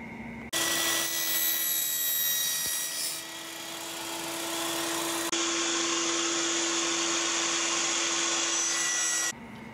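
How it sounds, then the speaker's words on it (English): A table saw with its fence set at two inches cuts hinge recesses into wood, a loud, near, steady whine of the spinning blade shifting in tone as the cut progresses, then stopping. "Now using my table saw, I've got the fence set up at 2 inches."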